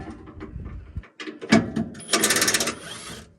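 A 1/2-inch drive ratchet loosens bumper bolts on a 2018 Ram 3500 pickup, with uneven clicks and clunks followed by a burst of rapid ratcheting near the end, close up with no talking.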